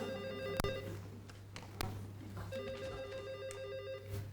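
A telephone rings with repeated electronic trills in a quiet room, fairly faint, with a few sharp clicks and knocks between the rings.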